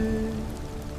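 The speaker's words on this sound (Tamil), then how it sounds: "மழை பெய்யுது." Rain falls in a steady, even hiss of drops on surfaces, with a faint tonal hum fading out at the start.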